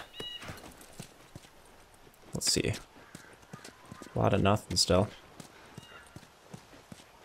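A horse's hooves clip-clop at a steady walking pace in The Last of Us, with a few sharp clatters and a brief snort. Someone talks quietly over the footsteps.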